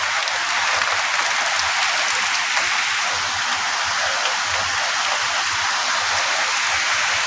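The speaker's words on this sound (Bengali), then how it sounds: "অনেক জোরে বাতাস হচ্ছে, বৃষ্টি অনেক জোরে হচ্ছে।" Heavy rain driven by strong wind pours down in a dense, unbroken roar, loud and close, with no pauses across the whole stretch.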